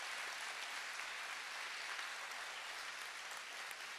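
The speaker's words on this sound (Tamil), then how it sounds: "அவர்களுக்காக ஒரு கைத்தட்டல் கொடுத்துடுங்க." A crowd at an academy event applauds in honour of doctors and sanitation workers, an even wash of steady clapping heard from a slight distance, holding level for a few seconds.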